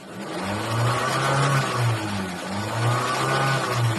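A car engine with a mini turbo effect fitted revs steadily, rising and falling in RPM over several seconds, loud and close, with no talking.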